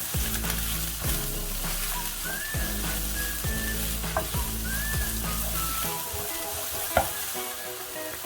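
Spring onions sizzling and frying in a pan for a wonton filling, a steady close crackle with repeated stirring and scraping strokes, a sharp clink near the end.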